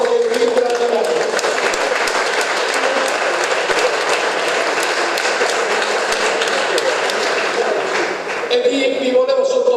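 Sustained audience applause at an awards ceremony for a theologian, dense clapping filling the whole stretch at steady loudness, thinning briefly near the end as a voice begins to speak.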